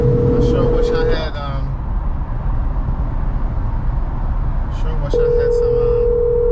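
Phone call ringing through a car's hands-free system, a steady tone repeating in two long bursts with a gap between, over road rumble inside the moving car while people talk.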